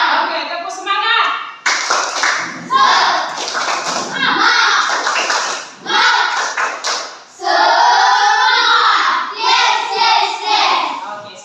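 A group of school students clap a rhythmic spirit clap in bursts of quick patterned claps with short pauses, loud and close, with voices mixed in.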